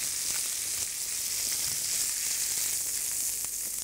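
Juices left from searing a steak sizzle steadily in the pan as the base for a mushroom sauce, a dense even crackle at close range with faint scattered pops, continuous and without talking.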